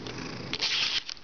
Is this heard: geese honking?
no